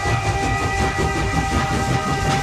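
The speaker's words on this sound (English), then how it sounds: "a 2nd train carrying treasures from the Hermitage Museum heads off to Sverdlovsk" A train departing in historical wartime footage from Leningrad gives a steady rumbling rail noise with faint tonal hum, continuous and moderately loud.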